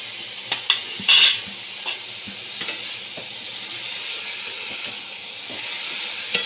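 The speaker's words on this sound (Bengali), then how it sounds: "এবার আমি এর মধ্যে আলু দিয়ে দিচ্ছি" Potatoes fry in a pan for a vegetarian cabbage curry, giving a steady low sizzle and hiss with a few brief stirring clinks and scrapes.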